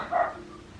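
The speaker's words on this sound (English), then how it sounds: "sorry about the dog in the background." A dog named Rudy gives a single short bark in the background of a quiet room, a brief mid-pitched yap that fades quickly into faint room noise.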